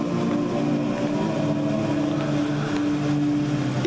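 A boat engine runs steadily, a continuous loud drone with a low tonal hum and a wash of broadband noise, unbroken throughout with no talking.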